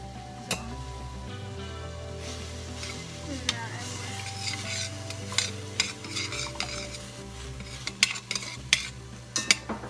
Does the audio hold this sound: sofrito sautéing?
yes